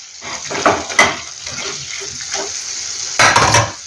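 Boiled drumstick pieces go into a tomato curry in a pan, with a steady hiss and sizzle under several soft clatters and stirring knocks from the pan and spoon, and a louder splashy thud near the end.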